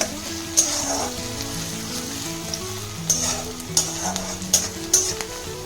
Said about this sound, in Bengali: পেঁয়াজটা আমি আরেকটু হালকা নেড়ে নেব।